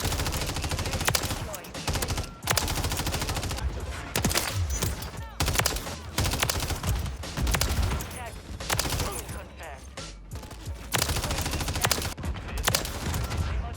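Rapid bursts of turret gunfire in a first-person shooter game ring out loud and close, with repeated volleys and only brief pauses between them.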